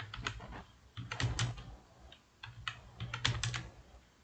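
Someone types on a computer keyboard while writing Python code, producing bursts of quick, close, soft key clicks with short pauses between runs.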